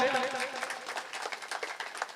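Audience clapping at a welfare foundation Independence Day event, a fairly faint patter of hands with distinct claps standing out, heard alongside a voice over a public address.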